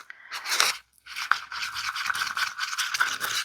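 Resin paste being mixed and pushed down in a cup with a stirring stick, a steady close scraping and scratching that runs almost continuously with one short pause, no talk.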